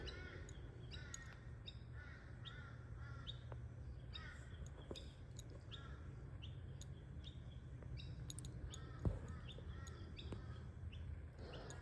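Distant crows caw now and then amid faint bird chirps over a low, steady outdoor rumble, quiet and far off throughout.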